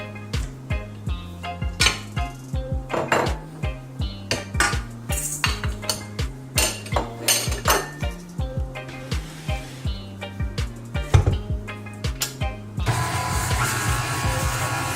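An electric mixer creams butter and brown sugar for vegan banana bread, with a rhythmic, repeating knocking and whirring from the beaters hitting the bowl. Near the end it changes into a steadier, denser churning.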